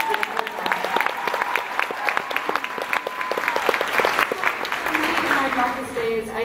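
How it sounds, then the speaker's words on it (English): A room of people claps steadily, moderately loud and close, while someone speaks briefly over the applause. "We can applaud that."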